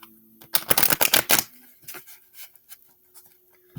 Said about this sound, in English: Let's do a riffle shuffle.